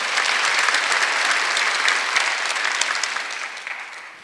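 A church congregation at a Sunday worship service breaks into a steady wash of dense applause that holds for several seconds before tapering off, with no talking over it.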